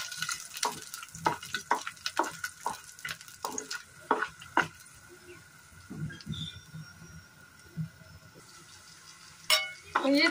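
Tomatoes frying in a pan for tomato chutney, with a soft sizzle under a run of sharp, rhythmic spoon scrapes and clinks that thin out midway, plus a few later stirs.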